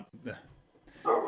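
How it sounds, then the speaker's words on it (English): A dog nearby gives a couple of quick, loud barks in a short burst. "No, that's my dog. Different bark."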